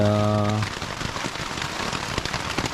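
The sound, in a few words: heavy rain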